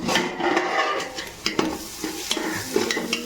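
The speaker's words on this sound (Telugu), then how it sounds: "ఉల్లిపాయలు బ్రౌన్ కలర్ వచ్చే వరకు వేసుకోవాలండి ఇది పదిహేను నిమిషాలు టైం పడుతుంది వేగడానికి" Onions frying in a pan until browned for a country chicken curry, a continuous sizzle with repeated stirring scrapes and spatula knocks on the pan, close and fairly loud, no talk.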